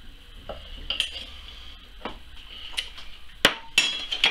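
A metal tongue press lid is fitted and pushed down onto cooked ox tongue, giving scattered metallic clinks and a few sharp, ringing knocks near the end, close up over a quiet background.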